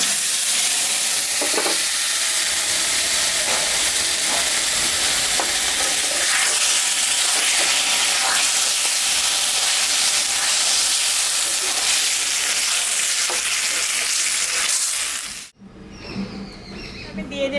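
Catla fish head frying with spices such as ginger, garlic, cumin and dried chilli in a pan, giving a loud, steady sizzle with stirring scrapes that continues throughout before cutting off sharply near the end.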